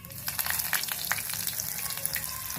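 Garlic cloves fry in hot oil with a continuous bright sizzle and crackle, sounding close and steady.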